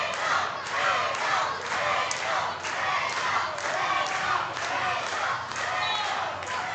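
Wrestling crowd at an intergender match chanting and cheering for Raychell Rose, a loud, dense roar of many voices rising and falling in steady rhythmic waves.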